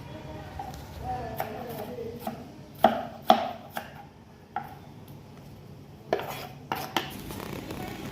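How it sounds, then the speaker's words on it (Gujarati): Tomatoes being finely chopped with a knife on a board, irregular sharp taps and clusters of cuts spaced a second or so apart over faint background noise. "ટમેટા પણ ઝીણા સુધારી લેશું."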